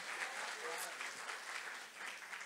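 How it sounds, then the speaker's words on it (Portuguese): A church conference audience gives a round of applause, a brief, fairly quiet spread of clapping with voices mixed in and cheering. "dá uma salva de palmas para ele"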